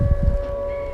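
A steady, sustained air raid siren drones in the distance near the central bridge in Uzhhorod, Ukraine, with low wind-like rumble underneath, lasting only a moment.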